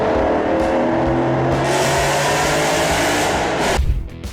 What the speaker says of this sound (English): one thing never goes out of style: that unmistakable Mustang growl